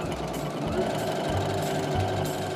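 A sewing machine runs steadily, stitching a straight seam with backstitching at the start and end, a close, continuous mechanical whir with a fast needle rhythm throughout and no voices.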